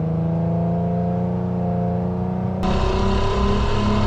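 A V12 car under kick-down acceleration, steady engine drone with harmonic tones that jumps abruptly louder and rougher as the downshift bites and the engine surges, heard from inside the cabin.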